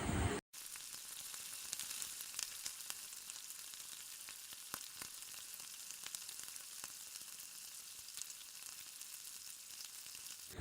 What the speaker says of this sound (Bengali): এদিকে দেখো ডাল সেদ্ধ হতে হতে আমার কুমড়ো ভাজা হয়ে গিয়ে ওল ভাজা চাপিয়ে দিয়েছি